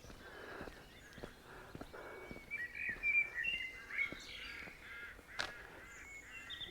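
Small birds chirping in trees along a roadway in Ardee town, faint quick tweets and trills scattered over a quiet background, with one brief sharp call near the end.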